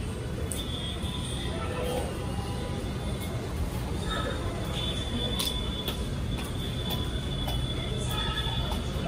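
A metro train rumbles loudly and continuously, with rolling wheel noise and faint high squeals, under a busy station atmosphere.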